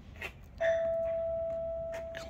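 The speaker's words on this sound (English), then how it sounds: "Gotta hear what the doorbell sounds like." A 1970s house doorbell rings once with a clear, sustained electronic tone that fades slowly, heard close in a quiet room.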